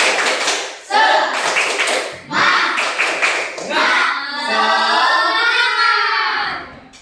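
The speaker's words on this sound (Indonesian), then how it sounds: "Mari kita bertepuk semangat." A classroom of children clapping in rhythmic bursts for a 'tepuk semangat' spirit clap, short claps alternating with gaps, followed by the class chanting together in loud unison.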